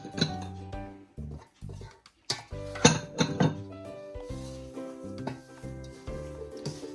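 Samosa roll filling of potato and chicken being mixed by hand with rice flour in a bowl, soft irregular squishing and stirring with a few clinks against the dish, close and quiet, no talking.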